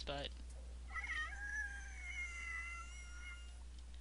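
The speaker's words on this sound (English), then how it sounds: "it's just an extra sound for the baby links" Creature call of a baby lynx in the video game Meadow, a single drawn-out, pained-sounding meow with a wavering pitch, fairly clear over a low steady hum; a brief clipped word of speech opens it.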